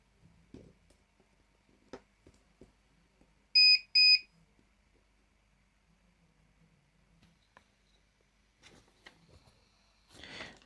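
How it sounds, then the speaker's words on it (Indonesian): Two short, loud electronic beeps from a buzzer on a DF Player circuit board during a bench demo, sounding close and alone amid quiet handling clicks and faint background noise. "Untuk buzzer juga aktif di situ."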